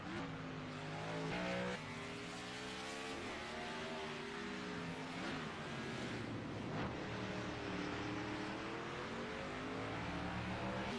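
Race cars circle the road course at Sonoma during a stock car series race, with loud, sustained engine roar as they shift gears and rise and fall through the esses and corners.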